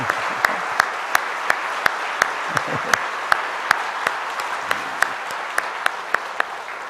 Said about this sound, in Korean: 축복의 박수 한번 합시다.